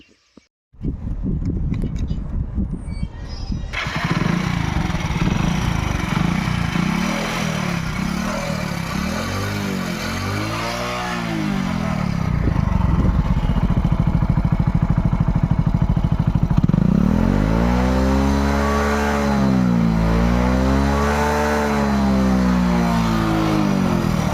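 A 2014 Bajaj Passion Pro motorcycle engine idles with a steady throb, then revs up and down in repeated swells, loud and close, with no talking.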